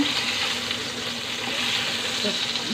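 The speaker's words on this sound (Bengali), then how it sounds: "আর আলু ভাজতেছি" Potatoes fry in a pan with a steady, close hiss of sizzling oil and light stirring scrapes, the same meal including rohu fish and pointed gourd; no one speaks.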